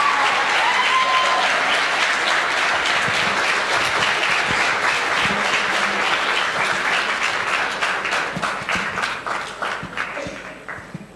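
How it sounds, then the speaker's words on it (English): A standing ovation at a graduation ceremony: a large crowd claps loudly and steadily, the sound thinning toward the end into separate, sparser claps as it dies down. "Let's stand and give her some more applause, ladies and gentlemen"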